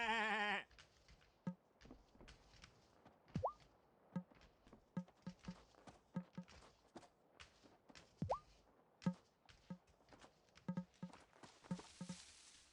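Sheep bleating on a farm in the video game Wylde Flowers, a few short bleats scattered among soft rhythmic footsteps and small patters, fairly quiet and alone.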